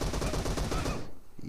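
Rapid automatic gunfire in PUBG, a dense burst of close, loud shots for about a second before it cuts off into quiet game ambience.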